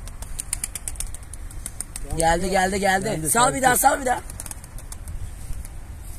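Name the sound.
pigeons flying, flapping wings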